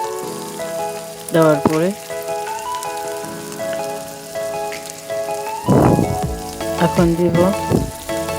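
Chopped onion, chili, cardamom, cinnamon, bay leaf, cloves, cumin and ginger-garlic paste fry in a kadai, a steady sizzle running throughout with stirring scrapes and clatters, under background music and brief talk.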